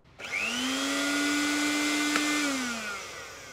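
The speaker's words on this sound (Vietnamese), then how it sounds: "Đâu bật cái máy sinh tố lên nghe chơi coi." A household blender at home whirs up to a steady, loud motor whine for about three seconds, then winds down as it is switched off, with no talking over it.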